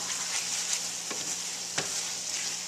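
Balsamic vinegar being stirred into a pan of cooked-down garden ratatouille, a soft steady sizzle with two or three light scrapes of a spoon against the pan.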